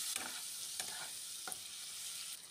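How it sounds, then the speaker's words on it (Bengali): Spices with tomato, salt, chili and turmeric powder sizzling in hot oil in a pan while being stirred, steady frying hiss with several distinct scraping strokes of the spoon, close and alone. "ভালো করে নেড়ে নেব।"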